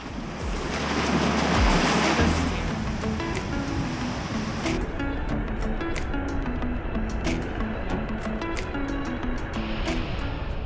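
Ocean surf at Thunder Hole on the rocky Maine coast, a broad continuous wash of breaking waves with a heavier surge near the start, mixed with wind buffeting the microphone, no voices.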